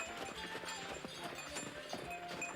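A horse draws a sleigh around a barn in the snow, its hooves clip-clopping in a steady, moderately close rhythm under a faint bed of background sound.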